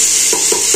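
Chopped onion sizzles loudly in a pan of hot tadka oil, a steady bright frying hiss with three soft stirring scrapes spaced evenly through it.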